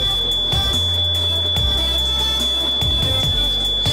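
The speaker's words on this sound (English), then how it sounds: "See that smoke detector right there? It works." A smoke detector goes off while bacon and eggs cook at a rental house, its loud, piercing electronic tone sounding continuously and close, with no speech.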